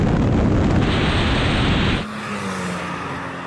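Hard drag-race launch: a loud engine roar with broadband tyre scrabble as the wheels spin for about two seconds, then an abrupt drop to a steadier, rising engine note as the car hooks up and pulls away.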